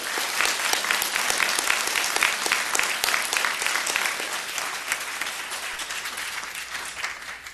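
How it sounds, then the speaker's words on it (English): Sustained audience applause at a village board of trustees meeting, dense steady clapping from a crowd in a meeting room lasting throughout without speech. "if we could refrain from applause or jeering"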